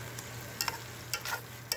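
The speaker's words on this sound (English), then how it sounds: "I'm going to turn off the heat and mix it around" Sausage, peppers and leeks get stirred in a pan with the heat just switched off: a quiet steady hiss broken by a few soft scraping strokes of the spoon, no voices.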